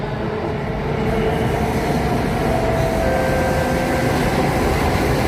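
An SMRT Circle Line C830 metro train runs between Botanic Gardens and HarbourFront in Singapore, giving a steady, close rumble with a faint high whine rising over it, with no talk.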